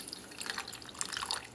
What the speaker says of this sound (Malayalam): കുറച്ച് വെള്ളം നമുക്ക് ചേർക്കാം